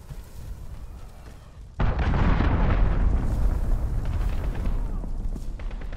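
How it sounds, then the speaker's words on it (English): A cruise missile strike in Call of Duty: Modern Warfare lands as a sudden loud blast partway through, followed by a sustained heavy rumble that lingers to the end. "Allied cruise missile away."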